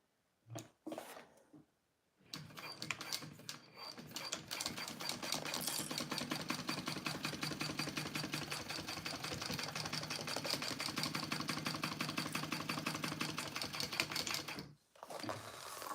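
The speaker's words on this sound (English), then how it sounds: "I'm going to do another row of stitching right beside that row" A sewing machine stitches a clear vinyl boxy bag: a couple of short starts, then a long, steady run of rapid, even mechanical ticking that stops abruptly near the end, with no talking.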